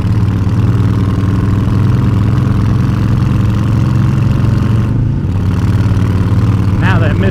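Motorcycle engine idling steadily close by, a loud continuous low rumble with a brief dip near the end, while a voice speaks over it.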